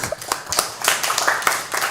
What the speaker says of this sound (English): So big applause to all of us.